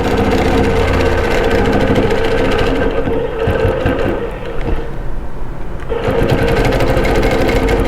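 A longarm quilting machine stitches a custom quilt. Its steady, loud mechanical whir runs without pause and shifts briefly in tone partway through as the stitching continues.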